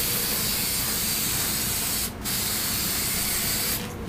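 Super 77 spray adhesive hisses loudly from an aerosol can onto pieces in one long steady burst, cutting off briefly before the spraying resumes.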